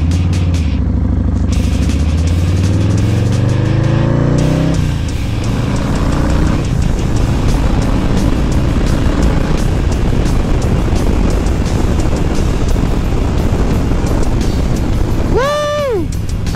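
A 2022 Harley-Davidson Low Rider S with the 117 engine rides at speed, its deep engine drone rising through the gears under heavy wind roar, loud and continuous, with a voice talking over it.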